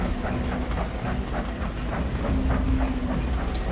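A train rolls steadily along a railway in a video game, with a continuous loud rumble and rhythmic clickety-clack of wheels over rail joints.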